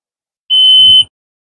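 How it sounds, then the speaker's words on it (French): A single electronic beep from a self-leveling Haulotte 4527A aerial work platform signaling it is level, steady and high-pitched, lasting about half a second, with a faint low rumble at its end. "La nacelle est auto-nivelante, elle fait un bip quand elle se trouve de niveau."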